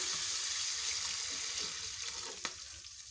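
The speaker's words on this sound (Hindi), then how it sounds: "अब मैं इसमें पानी ऐड कर दूंगी।" Water poured into sizzling masala for beef nihari, a loud continuous hissing splash filling the pot close up, fading slightly with a small clink near the end.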